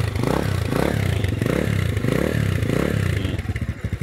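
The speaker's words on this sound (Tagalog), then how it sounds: "nag-iba yung tunog ng ating Skygo Boss 150" Skygo Boss 150 motorcycle engine idling and revving steadily nearby, a loud continuous rumble with rhythmic pulsing swells and a mechanical clatter, more uneven toward the end.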